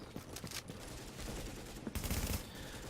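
Gunfire rattles in the video game The Division, quiet bursts of rapid shots scattered through, with a louder volley near the end.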